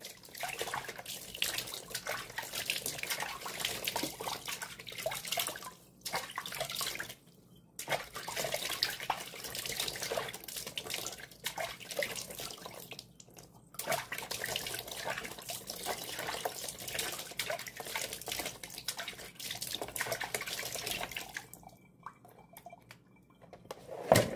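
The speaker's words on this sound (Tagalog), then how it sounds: "Wash my face with lukewarm water." Someone washes their face with lukewarm water at a running tap. Splashing and trickling water continue close by, broken by a few short pauses when the flow stops.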